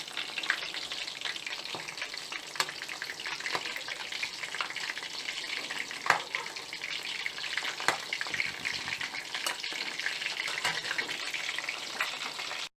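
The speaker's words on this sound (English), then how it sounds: "When you are finished on one side, fry it on the other. Just turn it around and continue frying." Chicken lollipops, also called drums of heaven, sizzle steadily in hot oil close by, with a constant crackling fry and occasional sharper pops as pieces are turned.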